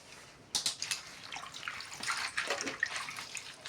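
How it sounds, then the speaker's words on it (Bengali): Thankuni (Centella) leaves being washed by hand in water, with quiet splashing, sloshing and dripping in short bursts, close and faint. "এখন আমি এই যে থানকুনি পাতাগুলি ভালোভাবে ধুয়ে নিচ্ছি"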